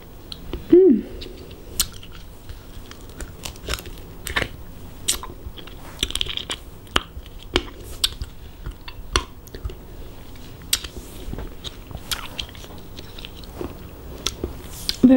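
Raw passion fruit being bitten and chewed up close, sharp wet crunches and clicks repeating irregularly throughout, with a brief bit of talk near the start.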